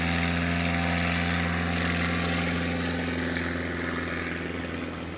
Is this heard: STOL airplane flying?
yes